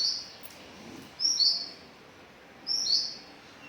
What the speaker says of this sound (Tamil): இதுக்குள்ளார போய் குஞ்சு பொரிச்சிருக்கு